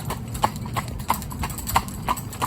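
Silver the cob horse walking on a road, hooves striking in a steady, evenly spaced clip-clop rhythm with crisp close knocks over low background rumble.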